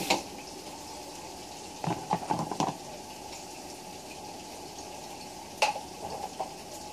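Beef frying in hot oil for fajitas, a faint, steady sizzle broken by a few short clattering stirs near the start and again later, with no talking.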